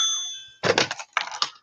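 A phone rings when called, a short bright bell-like ring in two quick clustered bursts following a fading tone, close and fairly loud, with no voices.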